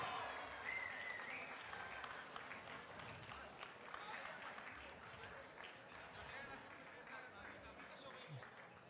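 An audience applauds a second-place prize winner at a youth bouldering European Cup final in Graz, giving steady sustained clapping that sounds fairly distant and even throughout.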